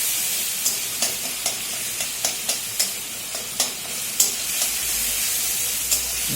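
Tomatoes frying in a pan for dalma, an Odia lentil dish, with a steady sizzling hiss and a run of sharp scraping stir strokes about every half second.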